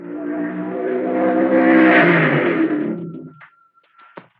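The Green Monster dragster makes a run at the 1958 U.S. Nationals drag race, a loud, roaring engine that swells to a peak and then drops away, followed by brief faint mechanical noises.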